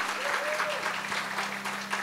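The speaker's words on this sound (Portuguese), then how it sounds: "Salva de palmas, queridos" A church congregation claps together, a steady dense wash of applause filling the room throughout, with a voice talking over it and a sustained musical tone underneath.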